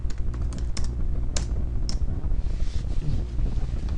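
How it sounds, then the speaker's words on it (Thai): A computer keyboard is typed on in a quick series of crisp, close clicks, with a steady breathy background rush running underneath. "โปรแกรมนี้ก็ อย่างที่ทุกคนเห็นก็คือโปรแกรมแสดงง่ายๆเฉยๆนะครับผมก็พิมพ์ ธนิตพล"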